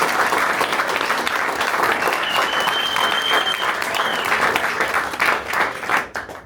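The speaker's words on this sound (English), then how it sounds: "Let's give one more round of applause to this young band." A studio audience applauds a young band, a dense, loud clapping that holds steady before thinning out near the end.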